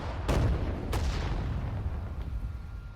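Heavy guns fire in the World War II strategy game Sudden Strike 4, two sharp booming reports a little over half a second apart, ringing out over a low, constant battlefield rumble, with no talk.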